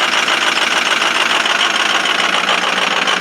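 A 2005 Ford 6.0 Powerstroke diesel cold-starting at 17°F with two bad injectors, a loud continuous rough clatter with fast uneven knocking pulses throughout, no talking.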